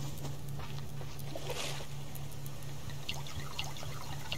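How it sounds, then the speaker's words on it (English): Water poured to fill containers in the survival game Subsistence, a soft steady trickle and splash running evenly at low level under a constant background hum, with no one talking. "Let's go fill up our waters."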